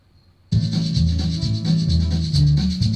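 A Tulsa Train Beat drum loop kicks in abruptly after a near-silent start, steady driving low thumps under a constant hissing shaker pattern, loud and repetitive.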